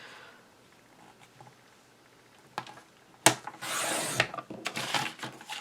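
Scissors cutting strips from paper or recycled box cardboard, a close scratchy rasping with a few crisp snips and a longer sustained cut in the middle, fairly quiet overall.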